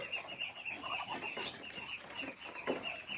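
Farm poultry pen of Muscovy duck breeders, with steady clucking and soft fowl calls, a persistent high chirping, and scattered rustling close by, moderately faint throughout.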